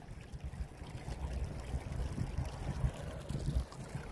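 Floodwater pours steadily out through a farm drain system after a flash flood and thaw, a continuous rushing, gurgling flow that stays close and even for the whole stretch.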